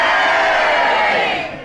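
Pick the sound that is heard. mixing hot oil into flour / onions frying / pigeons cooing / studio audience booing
studio audience booing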